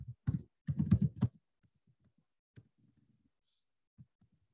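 Code being typed on a computer keyboard: two quick clusters of loud, crisp keystrokes at the start, then sparse, softer taps and clicks scattered across the rest of a quiet room.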